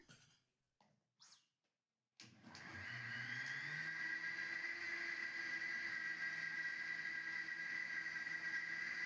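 A kitchen grinder blending crepe ginger into a paste, starting abruptly after a few soft knocks and then running as a steady, loud motor whine with a constant high hum.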